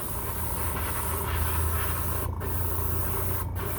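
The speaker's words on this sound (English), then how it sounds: "I'm spraying it kind of heavy" Aerosol paint sprays heavily onto a replica Rolls-Royce jet engine part for weathering, a steady close hiss broken by two brief pauses between bursts.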